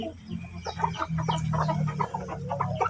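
Rhode Island Red breeding chickens cluck steadily at close range in a farm pen while waiting for feed, with repeated short calls from several birds over a continuous flock murmur.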